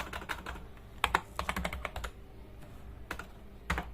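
A computer keyboard clatters close by as someone types a company name into accounting software, quick uneven bursts of keystrokes with brief pauses.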